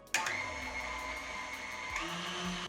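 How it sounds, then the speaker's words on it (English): An electric stand mixer runs steadily while sugar is gradually added for an apple cake batter, a close, constant motor whine with a sharp start and a small shift in pitch partway through, heard alone without voices. "Slowly, gradually, I'm going to add sugar, close the mixer, and let's give it 10 minutes"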